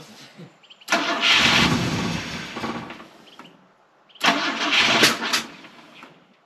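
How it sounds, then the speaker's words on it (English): A 50-year-old Volvo 164E, sitting unused for 20 years, cranks and fires in two loud bursts of rough engine noise, each ending in a sharp backfire crack, with a quiet gap between them. "Backfire"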